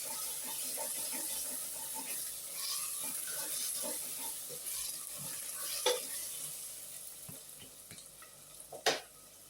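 Tibs (meat) with berbere spice being stirred and fried in a pan, a soft steady sizzle under scraping and stirring with occasional clinks of a utensil against the pan, fairly close.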